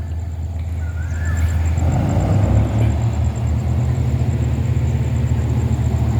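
Diesel locomotive at the head of train 446 revving its engine, a loud steady low rumble that swells and holds throughout, with a faint high whine above it.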